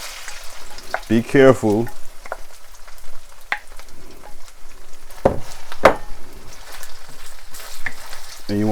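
Thin-cut beef sizzling and frying loudly in hot oil as it is stirred, with close clatter of a utensil against the pan and a brief voice.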